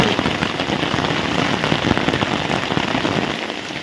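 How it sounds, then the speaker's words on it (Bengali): Heavy rain pours down in a steady, dense roar of drops striking surfaces, loud and unbroken for the whole stretch with no voices. "প্রচুর বৃষ্টি হচ্ছে, প্রচুর,"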